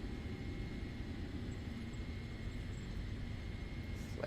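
An auxiliary power unit runs in the Microsoft Flight Simulator video game, giving a steady, faint, even engine hum and rumble that holds for the whole stretch.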